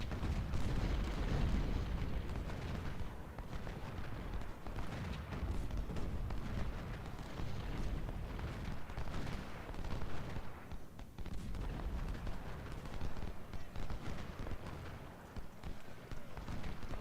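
Cannon and rifle fire during the Malvern Hill battle in Ultimate General: Civil War, a rumbling, steady barrage of booms and crackling shots that carries on without a break, with a voice briefly talking over it.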